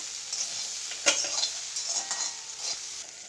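Bamboo shoot and jackfruit seed dal being stirred in a pan, with a soft steady sizzle under scattered spoon scrapes and clinks.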